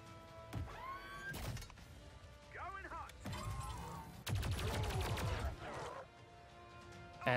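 Hacked robotic turret in XCOM 2 firing on aliens: several sharp bursts of gunfire with heavy thuds and rattling shots, broken by short gaps and alien squeals, a loud closing impact at the end.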